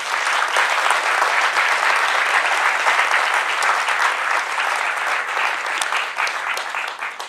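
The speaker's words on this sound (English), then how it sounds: "So let's give them a big round of applause." Sustained audience applause for event organizers, a dense, even wash of many hands clapping that tapers slightly toward the end.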